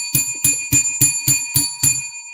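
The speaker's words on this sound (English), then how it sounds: "Let's ring the bell for Kyle Pitts waking up" A bright bell rings seven times in a steady, even rhythm, loud and close, each strike ringing out briefly before the next, with no voices.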